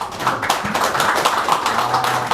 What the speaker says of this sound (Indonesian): Tepuk tangan dulu buat Pak Samsul ya.